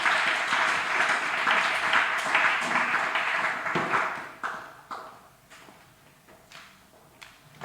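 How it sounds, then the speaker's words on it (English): A church congregation clapping for the worship team during a Sunday service, dense applause for about four seconds that thins to scattered claps and then fades out, with no talk. "Can we appreciate the worship team with a clap?"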